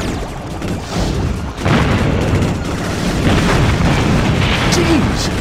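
Continuous booming blasts from the helicopter video game Heli Heroes, dense and loud, with a sharp louder burst early on and rumbling debris throughout.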